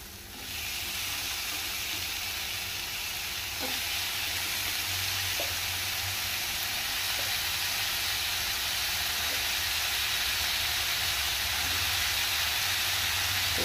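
Soaked breadfruit pieces going into hot oil in a pan set off a loud, steady sizzle that hisses on unbroken for the whole stretch, with a few faint knocks from stirring and no one talking.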